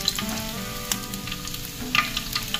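Close, lively sizzling from a frying pan during sautéing, crackling steadily with scattered pops and a louder burst near the end, and nobody talking.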